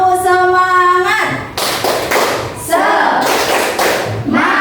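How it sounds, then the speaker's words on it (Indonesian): A classroom of students performs a rhythmic spirit clap, sharp group claps in quick patterned bursts mixed with chanted voices and a sustained tone at the start. "Tepuk semangat."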